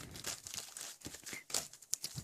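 Crisp plastic crinkling and rustling in short, irregular bursts, close and fairly quiet, as a plastic zipper bag is handled.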